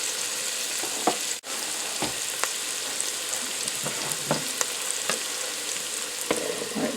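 Vegetables and mushrooms for a lemony lentil soup fry in a pan with a steady close sizzle, broken by a few soft clicks and scrapes of stirring, and no voices.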